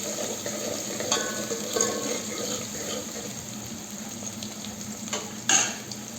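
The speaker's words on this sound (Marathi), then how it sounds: "त्या तेलामध्ये कांदा थोडासा लाल होईपर्यंत टाकू" Chopped onion frying in oil in a pan, a continuous moderate sizzle with occasional stirring scrapes and a sharper clatter near the end, close and without talk.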